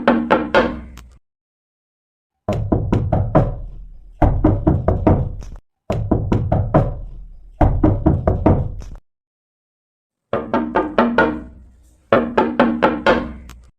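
Repeated bursts of sharp knocking on a door, several quick raps per burst separated by short silences, loud and close.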